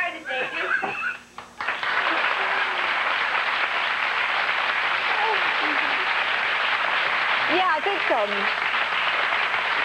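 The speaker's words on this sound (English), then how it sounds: "I think the reason they're applauding is the two of you seem to have done some pretty good work." An audience applauds in sustained, dense clapping for most of the stretch during a 2004 interview and performance; someone speaks briefly before it begins and again near the end.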